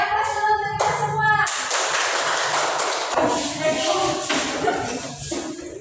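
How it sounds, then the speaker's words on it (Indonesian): A group applauds together in a classroom, a burst of broad, dense clapping in the middle of the clip, bracketed by a teacher's voice speaking and chanting before and after. "Kasih aplaus dulu untuk kita semua."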